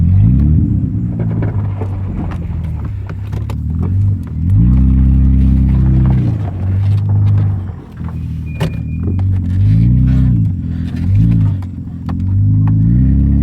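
A 1997 Toyota Camry XLE V6 engine under way, loud and close, repeatedly accelerating in rising pulls and easing off, with rumbling cabin drone and occasional clatter between the surges.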